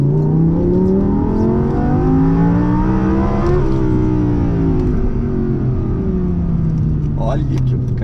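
An Audi R8 with a naturally aspirated V10 pulls hard uphill in second gear, its loud, close engine note climbing steadily in pitch, with someone talking over it.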